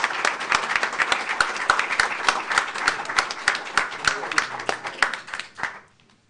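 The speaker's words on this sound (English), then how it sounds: "Please give them a round of applause." Applause at a board of education meeting, a modest room of people clapping with distinct, sharp individual claps, steady at first and then thinning out and fading to quiet near the end.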